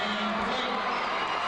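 High school basketball crowd at a semifinal cheering after a three-pointer, dense continuous roar of voices filling the gym, loud and steady.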